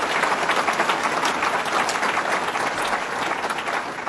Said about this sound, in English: Let's give our great Congressman a round of applause.